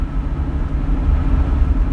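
Inside a car driving through a snowstorm, a dense, steady low road rumble fills the cabin, rough and continuous with no voices.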